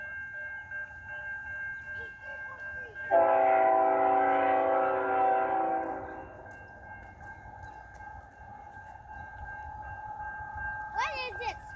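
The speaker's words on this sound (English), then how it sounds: "Soon horns were heard in the distance, and the gates went down over Depot Street." Distant train horns sound for about three seconds at a level crossing over Depot Street in Wisconsin's Fox Valley, rising over a steady hum of crossing bells and tones. Afterward a voice briefly talks.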